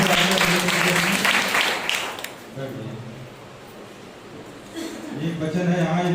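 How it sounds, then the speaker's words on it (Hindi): A church congregation at a Sunday service gives strong applause in a loud burst that fades and then swells again, with voices mixed into the clapping. "प्रीति जी के लिए जोरदार तालियां।"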